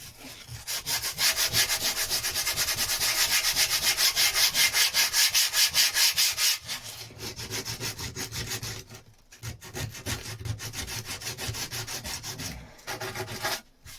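Belt sander running on wood, a loud steady abrasive rasp that drops in pitch and pauses briefly partway through, then resumes with a rougher rubbing texture; no voices.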